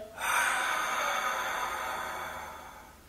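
A long, breathy exhale during a Pilates exercise, close and fairly soft, starting abruptly and fading slowly over a few seconds.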